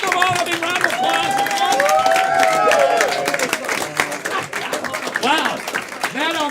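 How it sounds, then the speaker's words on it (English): A crowd at a live game-show event applauds and cheers all the players after the winner is announced, with clapping and whoops up close and loud voices shouting over it. "Let's give them all a big round of applause."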